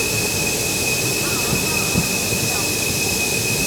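Gitanjali Express train arriving at Wardha Junction in Maharashtra, a loud steady rumble of rolling carriages with a high sustained wheel squeal over it.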